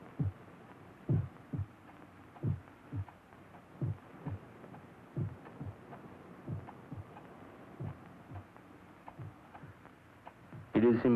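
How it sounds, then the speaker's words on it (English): A muffled heartbeat sound effect from a 1971 black-and-white film of Poe's The Tell-Tale Heart thumps steadily, about one low dull beat per second for many seconds, ending with a brief swell. "For many minutes, the heart beat on with a muffled sound."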